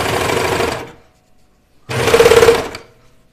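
A sewing machine stitches a sweater cuff in two close, loud bursts of rapid mechanical whirring separated by a second of silence, with no talking.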